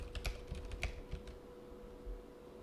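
Faint, quick keystrokes on a computer keyboard, a short burst of irregular clicks at the start, then sparse taps trailing off.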